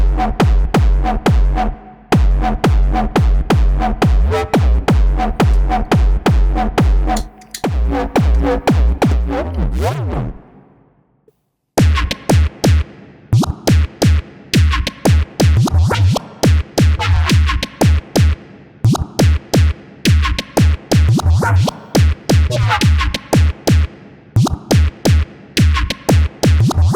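Resampled synth bass patch in a neurofunk style, heard as a loud run of rhythmic, gritty stabs that cut out briefly near the middle before the pattern returns, played alone without any talking.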